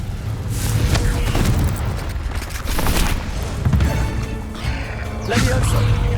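Confringo explosion spells in Hogwarts Legacy go off as heavy booms and crashing blasts, several in a row with rumbling tails, and a voice briefly calls out between them.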